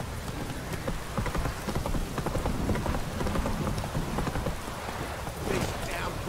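Steady rain pours in The Witcher 3: Wild Hunt, a dense, constant hiss of falling water that fills the whole stretch at an even level, with rhythmic clopping of a horse's hooves mixed in and no talking.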